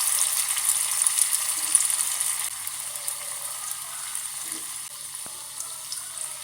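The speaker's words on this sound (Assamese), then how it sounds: "তেলখিনি গৰম হোৱাত মই এটা এটাকৈ ব্ৰেড চপখিনি ভাজি ল'ম।" Bread chops fry in hot oil in a kadai, giving a continuous even hiss that stays fairly loud throughout, with no voices.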